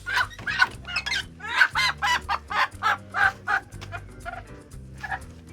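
Chickens clucking loudly and close, a rapid run of repeated clucks and squawks in steady rhythm with brief pauses, no talk.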